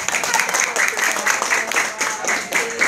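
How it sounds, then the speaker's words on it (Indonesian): A group of teachers claps during a name-guessing icebreaker quiz: steady, moderately loud applause of a small room's worth of hands, with voices talking and calling out over it. "Oke, tepuk tangan buat 96"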